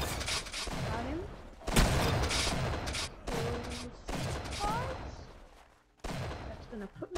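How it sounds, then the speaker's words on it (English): Shotgun-style gunfire in a first-person video game, several loud blasts spread across the stretch with decaying tails, mixed with game effects and occasional voices underneath. "This is kind of like a shotgun, I guess. I do like this gun."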